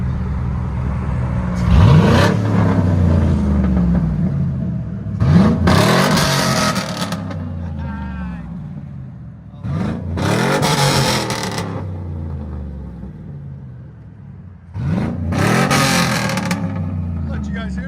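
A 2003 Chevy Silverado SS pickup's 6.0L V8 exhaust rumbles deeply as it is revved four times, each rev rising sharply then falling back, loud and close.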